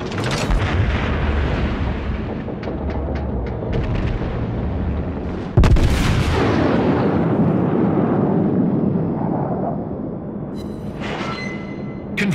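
Battleship main-gun salvos in the naval combat game World of Warships, with a loud broadband boom midway followed by a rumbling tail, over continuous engine and combat noise with earlier faint thuds.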